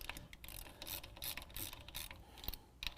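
Ratchet tightening the collar of an Icon leveling kit on a 2017 Ford Raptor, quiet clicking strokes in short irregular bursts at close range.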